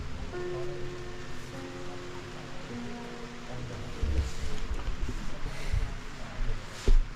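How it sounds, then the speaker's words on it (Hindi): Heavy rain drums steadily on a tent during an overnight stay on the Shrikhand Mahadev trek in the Himalayas, a dense continuous hiss with a few louder gusts and thumps near the end, and a voice faintly present. "और उसके बाद कितनी तेज़ बारिश भी हो रही है।"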